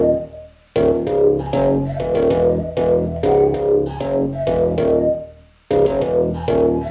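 Two layers of synth bass under a Cymatics melody line, a loud, dense beat-style loop with rhythmic stabs that drops out briefly near the start and again before the end.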